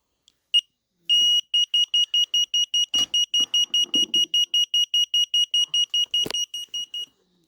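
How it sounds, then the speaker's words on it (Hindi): A fingerprint gate lock's alarm sounds a rapid series of sharp, high electronic beeps, about twenty-five in a steady even rhythm, with a couple of louder clicks and a faint thud in between. "जब कोई इसको खोलने की कोशिश करता है तो ये जो स्विच है ये ऊपर उठ जाता है और इसमें अलार्म बजने लगता है"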